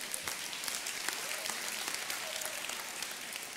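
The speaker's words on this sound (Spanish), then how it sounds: "Aplauda al Rey" Steady, moderately distant applause from a church congregation during a Spanish-language worship service, an even wash of many hands clapping continuously with no speech over it.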